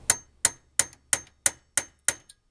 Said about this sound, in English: we're going to need a center punch, okay, and a hammer